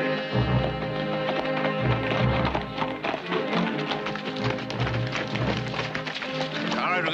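Horses' hooves clip-clopping under a dramatic orchestral score in a Western television drama, a rhythmic rapid tapping gait mixed with loud music throughout.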